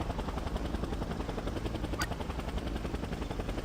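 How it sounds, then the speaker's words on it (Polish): A helicopter approaches in the video game Just Cause, a steady, dense rotor chop filling the mix throughout with one brief sharp click partway through. "A, helikopter po mnie leci."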